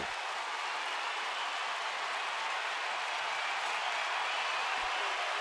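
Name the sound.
baseball stadium crowd cheering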